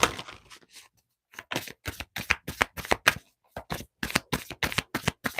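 An Egyptian Oracle card deck being shuffled, a close series of crisp riffling card bursts with a short pause early on, then rapid repeated flicks.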